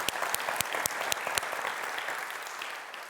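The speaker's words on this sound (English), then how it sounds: "I'd like to just have a first round of applause." Audience applause at the 2016 Stockholm Water Prize Symposium, a dense wash of clapping from a hall crowd with a few sharper close claps early on, holding steady and then easing slightly toward the end.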